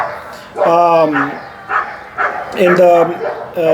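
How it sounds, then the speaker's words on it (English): A dog barks in short, pitched bursts mixed with whining yips, close and fairly loud, and several calls come in quick succession. "the dogs are barking"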